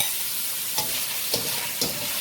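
Shrimp sizzle in a hot pan for a stir fry, a continuous crackling hiss broken by three soft stirring scrapes at regular intervals.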